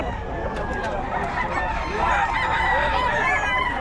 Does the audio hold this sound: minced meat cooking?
no